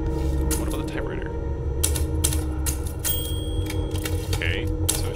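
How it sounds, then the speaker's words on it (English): Typewriter mechanism in the video game Dishonored 2, giving a few brief clattering clicks and mechanical rattles over a steady low game ambience, with a faint voice in the background. "What about the typewriter?"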